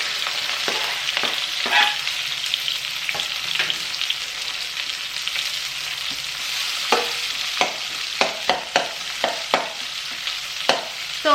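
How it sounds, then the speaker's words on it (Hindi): Chopped onions and long green chillies frying in oil with cumin seeds, a steady close sizzle broken by repeated sharp clinks and scrapes of stirring, growing busier toward the end, with no talk. "अब मैं इसमें डाल दूंगी कटी हुई प्याज।"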